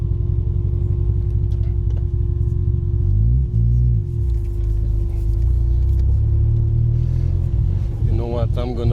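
A fuel-injected Triumph TR6, converted from carburettors, being driven on the road: a steady, loud low engine drone and rumble runs throughout, with brief shifts in pitch as it accelerates, and someone talks over it.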